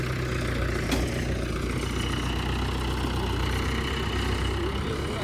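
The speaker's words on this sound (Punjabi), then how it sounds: "ਅੱਜ ਚੱਲਦਾ ਗੁਗਨੀ ਬਾਈ ਵਾਲਾ ਟਰੈਕਟਰ" A tractor engine runs at a steady, rumbling idle close by on a potato farm, its low drone constant and unbroken throughout.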